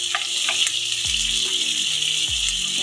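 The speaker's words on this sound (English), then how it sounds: "We're going to apply some water now." Water pours into a pot for steaming fish, a loud continuous splashing rush with a sizzle-like texture and a few low thumps as the stream shifts.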